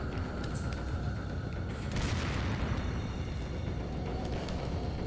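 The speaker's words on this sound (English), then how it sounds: "who's the firecrackers? Where are those coming from?" Firecrackers pop in a Nintendo Wii U video game, a dense crackling burst around the middle over a continuous rumbling noisy background.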